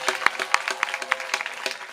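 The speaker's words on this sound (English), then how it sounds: "So give him a big round of applause." Audience applause at a kirtan gathering during a Kartik parikrama in Rangadevi's forest, greeting a mridanga player: a dense patter of hand claps with a few sharper, louder claps standing out, moderately near and steady.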